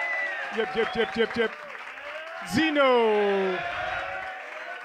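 An audience applauds at the Greek Beatbox Championship 2018 eliminations at SAE Athens. The clapping swells into a sustained wash after a voice shouts and vocal sounds come through the speakers.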